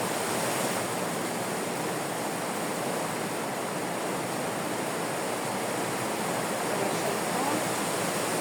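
Steady broadband rush of water pouring out through a pipe that runs across a vegetable garden, a continuous close hiss with no pauses and no talking.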